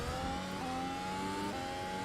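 Race car engine in the iRacing simulator, with Renault Clio Cup and Formula Ford cars, droning steadily at high revs with slight pitch shifts near a downshift, heard alone and fairly quiet for two seconds.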